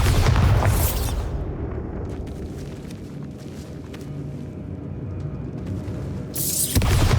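Bombarda spell from Hogwarts Legacy on Nintendo Switch bursting in two loud booms, one at the start and one near the end, with a low rumbling game soundscape between them.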